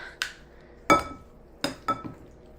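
Beef is mixed in a bowl for ginger beef and mushroom noodles, giving four sharp, separate clinks of a utensil against the dish, spaced unevenly over a quiet background.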